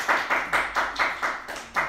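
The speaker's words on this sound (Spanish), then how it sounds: "¡Quiero mis aplausos!" A small group claps in slow, even unison, about eight distinct beats spaced at a steady rhythm, close and fairly loud.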